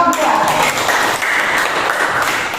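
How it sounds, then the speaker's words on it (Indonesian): Classroom applause for a student group during an Indonesian teacher-training lesson: dense, steady clapping from many hands fills the room without a break, with voices mixed in beneath it. "Tepuk tangan untuk kelompok 2."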